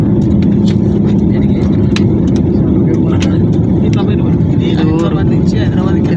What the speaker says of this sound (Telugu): ఇప్పుడు లేచింది ఫ్లైట్ మీదికి కనబడుతుంది.